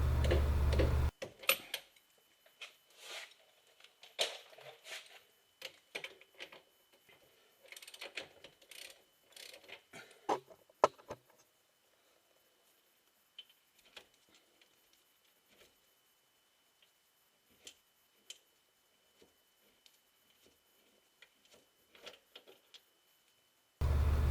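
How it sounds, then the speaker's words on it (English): Bottom brake caliper bolt on a 2007 Corvette C6 being loosened during wheel bearing and axle work: sharp, irregular metallic clicks and ratcheting taps, busier at first, then sparse and quiet, with no talking. "we're going to loosen the bottom bolt for the caliper"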